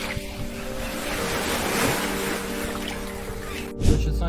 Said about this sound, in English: luring the animal near a large bowl using sounds of water